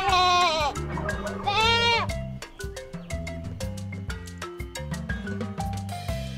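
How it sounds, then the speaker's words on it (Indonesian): Goat bleating, two long wavering bleats near the start against steady music, from an Indonesian children's animal-name quiz. "Kak untuk kambing, bahasa Inggrisnya goat."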